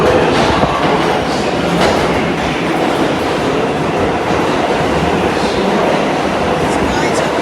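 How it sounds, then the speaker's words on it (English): A local 7 subway train rumbles into the station at Vernon Blvd–Jackson Avenue, a loud, steady rush of wheels and rail noise filling the platform throughout, with people talking beneath it. "the 7 train coming, the local 7 train to Flushing Main Street"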